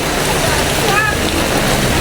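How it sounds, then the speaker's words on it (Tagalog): Heavy typhoon rain pours in a dense, steady hiss close by, with a faint voice briefly rising in the middle. "Ayan na, lumalakas ang ulan."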